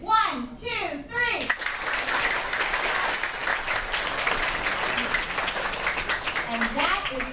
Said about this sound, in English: we're gonna put our hands together in a big round of applause